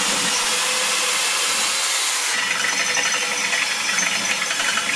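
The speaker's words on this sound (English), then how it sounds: "The pilot hole is drilled first" Drill boring a pilot hole through steel plate for a bench grinder stand, a steady loud grinding whir that continues without a break, pitch and texture shifting partway through.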